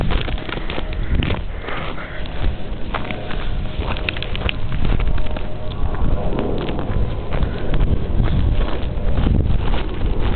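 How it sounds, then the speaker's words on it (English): Wind blows hard and steadily during a Seattle snowstorm that has turned to freezing rain at 29 degrees, a dense, rumbling rush that buffets the microphone continuously and stays loud throughout. "so it's a little windy here too, making a wind chill"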